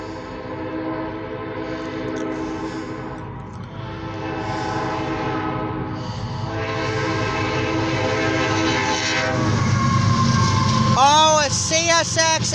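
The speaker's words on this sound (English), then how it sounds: "CSX ethanol train with one buffer car." An eastbound CSX ethanol tanker train with grain hopper buffer cars rumbles steadily past close by, and its horn sounds loudly near the end.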